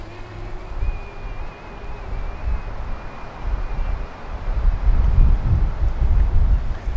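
Gusty wind blows over water while a Mavic Mini drone is flown, rumbling and buffeting in uneven surges that grow stronger toward the end, with a thin whine from the drone faintly underneath.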